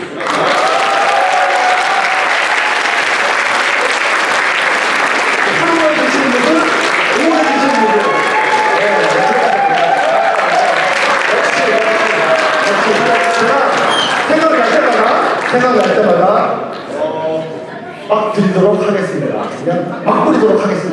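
Guests at a Korean community evening in Slovakia clap loudly and continuously, with chatter and laughter running under the applause before it briefly dips and resumes near the end.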